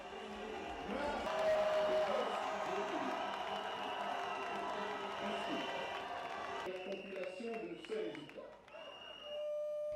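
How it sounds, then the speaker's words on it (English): Supporters of Gabonese junta leader Brice Oligui erupt in cheering and clapping at presidential election results, a loud, continuous crowd roar with mixed voices and music-like tones throughout, easing slightly near the end. "Brice Oligui's supporters erupted in joy, cheering and clapping"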